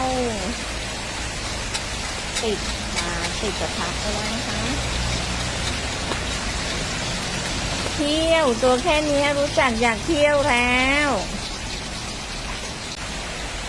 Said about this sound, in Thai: ฝนตกค่ะ วันนี้ ตกตอนเย็นนะคะฝน